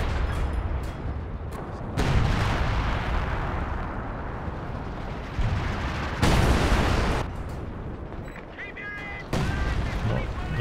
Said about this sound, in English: Base howitzer fire coming in on the forward battle group